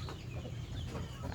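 Two village hens, crossbred from laying stock and native chickens, sit brooding eggs and let out soft, low clucks and murmurs, faint and close against a steady background hum.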